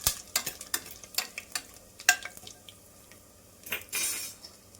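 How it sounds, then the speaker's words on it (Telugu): Garam masala frying in a pan for a Telugu amaranth-leaf pulao, heard as repeated sharp scrapes and clinks of a spatula against the pan over a faint sizzle, ending in a louder burst of hissing. "గరం మసాలాన్ని కొంచెం అయితే ఫ్రై చేసుకోవాలి."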